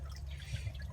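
Water flowing from a pipe into an aquaponics fish tank, a steady low rushing trickle that stays even and fairly faint throughout the short stretch.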